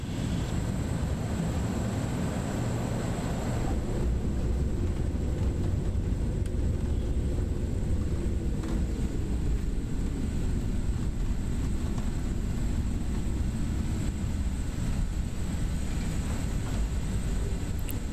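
A SimWorks Kodiak 100 single-engine turboprop lands in MSFS 2024, its steady engine drone and rumbling airflow loud and continuous throughout, with the pitch settling lower partway through as it touches down and rolls out.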